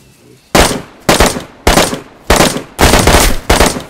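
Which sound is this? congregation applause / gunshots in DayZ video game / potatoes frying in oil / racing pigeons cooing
gunshots in DayZ video game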